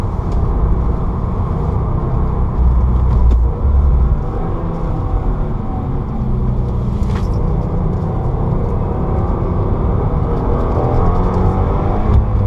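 Deep, steady engine roar of a turbocharged 2015 Subaru WRX with manual transmission under hard acceleration on a race track, loud and continuous with a low rumble throughout.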